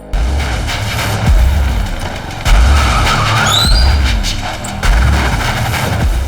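A car skids while being driven recklessly, with sharp tyre squeals and heavy engine bursts recurring in loud surges, close and aggressive, with no talking.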